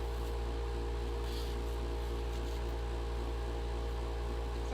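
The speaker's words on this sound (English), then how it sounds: "the humming you're hearing is my air conditioner that's right in front of me" An air conditioner hums in a room, a constant low drone with steady broadband hiss that stays unchanged throughout, with no voices.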